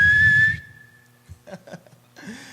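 A voice mimics a traffic guard's whistle with one sustained shrill tone lasting about half a second, followed by a few soft mouth sounds and a brief second whistle-like burst.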